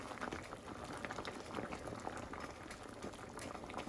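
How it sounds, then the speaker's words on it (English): Soup broth bubbles in a pot on the stove, a soft, steady burble of boiling liquid heard close and alone. "once it comes down to a simmer, and I'm gonna stir it a little bit to help it out"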